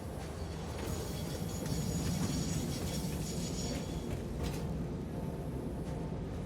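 A train rolls along rails in the factory-building game Satisfactory, a steady low rumble with faint clatter that holds at an even level throughout, with no talking.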